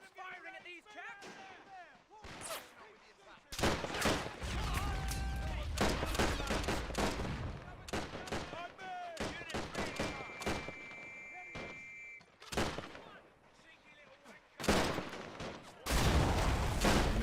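Gunfire rattles through a German Revolution 1919 strategy game battle between Freikorps and Spartacists, dense volleys and sharp rifle cracks in irregular bursts, some loud and close, with shouted voices in between.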